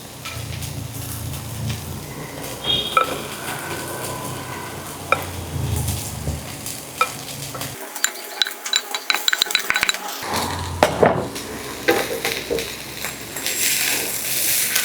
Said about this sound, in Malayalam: ഇനി നമുക്കിതിലേക്ക് വേവിച്ച് വെച്ചിരിക്കുന്ന ബസുമതി റൈസ് ഇട്ട് കൊടുക്കാം.